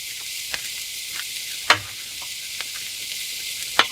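Onions for a mushroom Swiss burger sizzle on a griddle over low burners, a steady bright hiss with scattered light scrapes and two sharp spatula clacks, close and alone.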